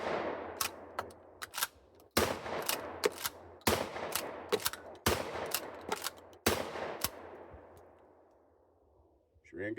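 Shotgun blasts fired outdoors, roughly eight loud sharp reports in uneven succession, each followed by a decaying echo, with steady low background hum and no talking.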